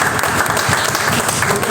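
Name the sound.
congregation applauding the Lord at church ceremony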